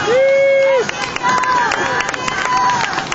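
Crowd noise at a whitewater kayak rodeo on the USNWC course, a loud, continuous mix of cheering and babble with scattered claps, alongside a whistle-like tone and rushing water.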